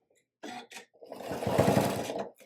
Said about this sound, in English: Then I'm going to make a few stitches. Then I'm going to back stitch.